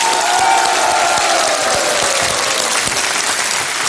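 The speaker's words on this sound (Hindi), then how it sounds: "तो तालियों के साथ एक बार फिर इनका स्वागत किया जाए।" A studio audience on the quiz show Kaun Banega Crorepati claps loudly to welcome the contestants, thick continuous applause with some cheering mixed in and a sustained musical tone underneath.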